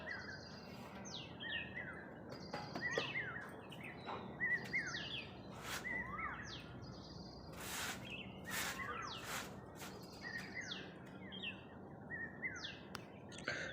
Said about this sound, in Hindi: कोयल की ये मधुर आवाज़, चिड़ियों की चहचहाट